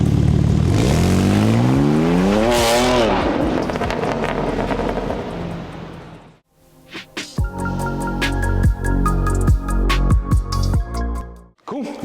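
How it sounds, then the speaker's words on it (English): Car fitted with an R44 performance exhaust and rear diffuser revving hard in loud, rising bursts for about six seconds, then a sudden cut followed by dense clattering and rattling engine-bay or workshop sounds. "So let's get it revved up and let's have a look."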